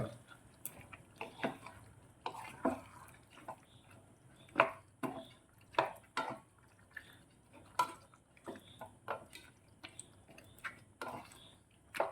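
Kadai chicken with kadai masala is stirred in a pan, giving scattered close clicks and scrapes in an irregular rhythm against faint background noise.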